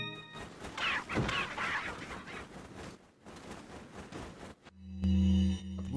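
Chickens clucking on a farm in a Resident Evil video game, faint and scattered beneath rustling ambience, ending with a brief louder electronic tone.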